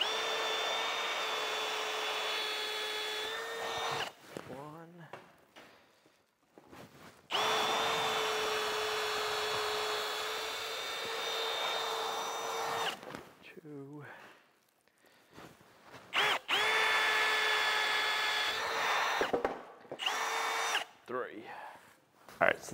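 Bursts of a power drill pre-drilling holes during construction of an off-grid wooden barn in the woods, three long steady whining runs separated by pauses with handling noise and brief talk.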